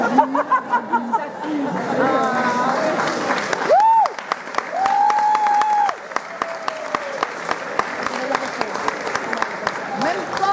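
An audience at a Breton folk singing event claps together, sustained applause mixed with chatter and some laughter, while a few whistles rise and fall over the crowd noise.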